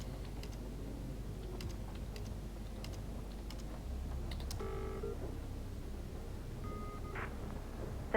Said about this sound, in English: you will be typing on an old computer at some point in every chapter